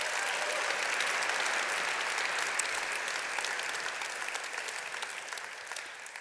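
An audience at a CityTalks panel event in Sydney applauds the three presenters, with steady, dense clapping from a crowd that slowly tapers off toward the end.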